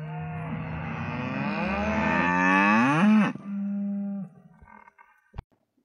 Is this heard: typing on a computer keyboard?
no